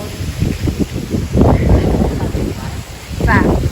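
Strong wind gusts buffet the microphone beside an outdoor hotel pool, rumbling in uneven bursts with a louder surge midway, while someone talks over it.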